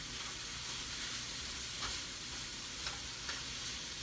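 Bacon sizzling steadily as it renders down in a pan for a paleo mushroom, bacon and leek quiche, a dense continuous crackling hiss with a few sharper pops, close and alone without talk.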